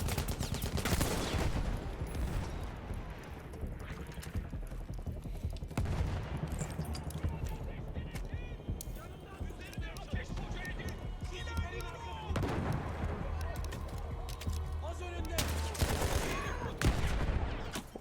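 Gunfire in the video game Battlefield 1: dense bursts of rapid shots and heavy blasts in a loud, nearly unbroken barrage, with a person speaking over the shooting.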